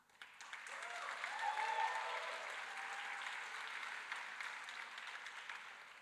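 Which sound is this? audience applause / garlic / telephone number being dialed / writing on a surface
audience applause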